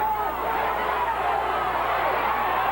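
A full home crowd at a homecoming high school football game at Evanston Memorial Stadium, a steady broad murmur of chatter and cheering that holds evenly throughout.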